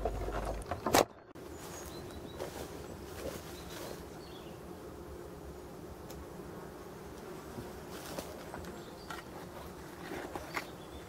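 Hornets buzz around abandoned beehives in a forest, a faint continuous hum of insects with scattered soft taps, after a brief sharp knock near the start.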